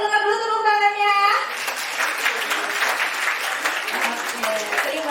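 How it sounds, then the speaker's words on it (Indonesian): Audience at a school children's concert applauding, a dense, steady wash of clapping that rises after a sustained musical chord fades out at the start. "Boleh dengar dulu tepuk tangannya?"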